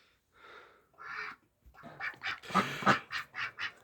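Domestic ducks quack in a string of nasal calls, a few soft ones spaced apart and then a quicker, louder run of quacks close by.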